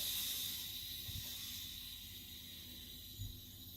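Steam hisses faintly and steadily from an Instant Pot's pressure release valve, a soft continuous high rush with a couple of small clicks, heard alone.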